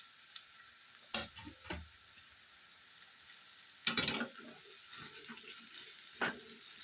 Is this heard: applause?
no